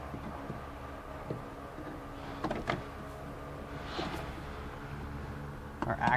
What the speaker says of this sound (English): So we want to lower down our window till we can get these 10 millimeter bolts.